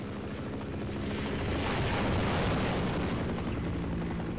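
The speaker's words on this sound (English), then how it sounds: "you go after the chopper, big guy" Helicopter in the Half-Life video game, a steady loud broadband rotor and engine roar that swells slightly toward the middle and holds throughout, with no talking.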